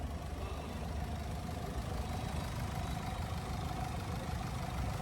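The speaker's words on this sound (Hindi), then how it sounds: "यह है 2000 CC inline 4 cylinder engine, 245 horse power और 14 का एवरेज।" A Mercedes-Benz GLE 300d with a 2000cc inline four-cylinder engine idles in a steady, low, even rumble, faint and unchanging throughout, with no voices.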